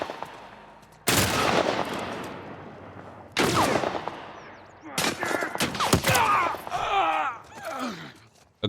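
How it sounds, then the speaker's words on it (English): Rifle and revolver gunshots in The Last of Us Remake: several loud, sharp shots spaced a couple of seconds apart, each leaving a short decaying tail, followed by a cluster of cracks mixed with pained groans and gasps. "A graze of a rifle bullet and one revolver bullet from full health."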